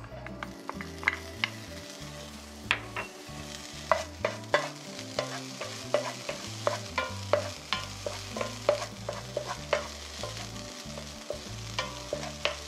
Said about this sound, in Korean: 팬에 식용유 3분의 1 작은 술을 넣고 코팅해주세요. 베이컨부터 볶아주세요.